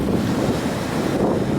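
Loud ocean surf crashes and rushes on the Washington coast in spring, a dense continuous roar of waves and wind buffeting the microphone, with no voices.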